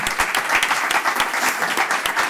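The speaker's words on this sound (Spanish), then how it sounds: "Yo creo que tenemos que darles un aplauso." A crowded hall at an anniversary event for a food company in Cantabria bursts into dense, sustained applause, loud and steady throughout with no voices over it.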